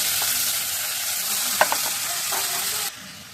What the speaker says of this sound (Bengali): এই যে লাল শাকটা ছেড়ে দেবো